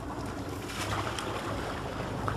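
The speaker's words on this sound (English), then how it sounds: "Right now I have the starboard engine in gear." The starboard engine of a Shannon 53HPS twin-screw sailboat runs in gear, heard as a steady, close, even rumble and wash with no talking.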